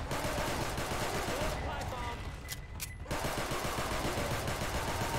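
Heavy gunfire at tanks in Left 4 Dead 2, a dense, continuous roar of shots that drops out briefly midway before resuming, with voices mixed in beneath the barrage.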